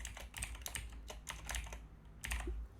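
Quick, uneven typing on a computer keyboard while entering CSS code, a steady run of close keystroke clicks with short pauses and no talk.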